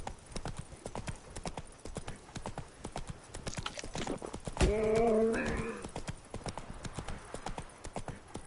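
Roach, a horse in The Witcher 3, clip-clops along in a steady walking rhythm, hooves crisp and close, with a brief whinny-like vocal swell in the middle.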